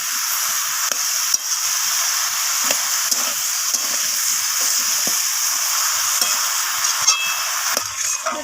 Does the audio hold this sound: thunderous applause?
no